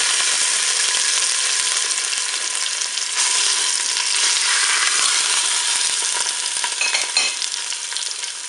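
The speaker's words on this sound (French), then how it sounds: "Le préchauffage est terminé, je vais pouvoir faire revenir mon rôti." A pork roast browns in hot oil inside a preheated Cookeo pot, giving a loud, continuous sizzle and crackle that stays even throughout, with occasional faint stirring scrapes and no talking.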